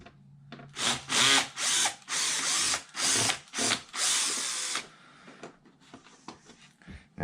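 A cordless power driver spins bolts on a Losi Super Baja Rey RC truck in a series of loud, whirring bursts of varying length, followed by softer clicks and handling noises as the parts are moved.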